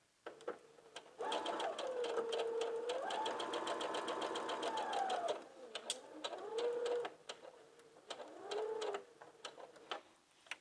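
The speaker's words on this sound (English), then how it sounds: "So insert your fabric and start stitching." A sewing machine stitches along a fabric fold in a long, steady run of rapid needle taps with a whining motor, then stops and restarts in two shorter bursts.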